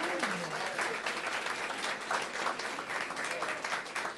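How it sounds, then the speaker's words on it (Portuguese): Congregation applauding during a Portuguese-language church sermon, a steady spread of clapping from a crowd that holds evenly for about four seconds, with a brief voice at the start. "Você pode dar um aplauso aí para o Senhor?"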